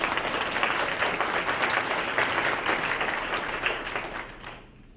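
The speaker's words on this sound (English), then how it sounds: "let's give her another round of applause" An audience at a law library gala applauds steadily and densely for about four seconds. The clapping then thins out and fades away at the end.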